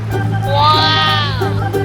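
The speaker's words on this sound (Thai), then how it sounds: "ลูกแพะตัวนี้สวยมากเลยดูดิ" A baby goat bleats in a long, wavering cry at a Thai agritourism farm, close and loud, with a steady low hum underneath and brief talk at the start and end.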